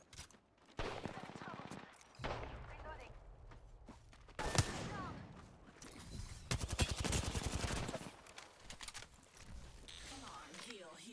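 Gunfire in a battle-royale shooter on the Storm Point map, coming as scattered bursts and clusters of rapid shots with gaps between them, mixed with other game effects while a person talks.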